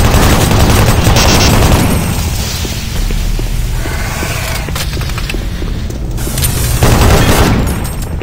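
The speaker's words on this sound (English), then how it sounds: "Warning, automated turret guns" Automated turret guns firing in Doom 3, loud dense bursts of rapid gunfire that ease briefly mid-sequence before another heavy volley erupts, with mechanical clatter between.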